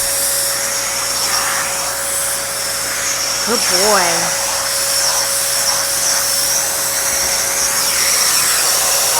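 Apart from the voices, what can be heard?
vacuum cleaner running on a cat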